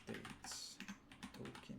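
A run of keystrokes on a computer keyboard, quick uneven taps with short pauses, close and fairly quiet, with no talking.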